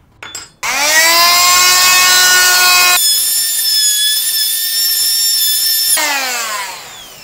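DEXTER 260 W oscillating multi-tool fitted with a small chisel blade, scraping cement off a wall: after a brief scrape it starts into a loud, steady, high-pitched buzzing whine that shifts pitch partway through and then winds down, close and alone.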